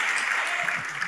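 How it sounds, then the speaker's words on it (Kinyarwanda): A church congregation clapping for God, a short burst of dense, steady applause at moderate volume. "Mukomere Imana amashyi basi. An applaud to God."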